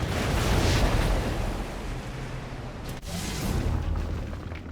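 A bombardment blast in Civilization: Beyond Earth – Rising Tide strikes a unit, a deep rumbling boom that swells and decays, followed by a sharp crack and a second rolling wave of low rumble.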